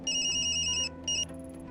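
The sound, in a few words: phone ringing in the video game Tokyo Dark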